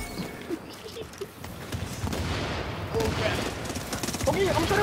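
Video game gunfire with bursts of shots and booms building in density and loudness, mixed with game ambience and occasional voices underneath.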